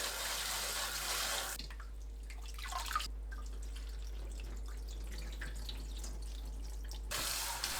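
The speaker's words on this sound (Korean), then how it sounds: "찬물로 흔들어가며 여러 번 헹궈내세요." Green laver seaweed is rinsed under cold running water, a close tap stream that splashes and hisses, with a quieter stretch in the middle before the full flow returns.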